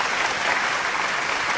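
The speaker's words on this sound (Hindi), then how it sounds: "एक बार जोरदार तालियां बजा के" Dense, steady applause from an audience at a poetry recital, a broad continuous wash of many hands clapping at once, loud and sustained with no talking over it.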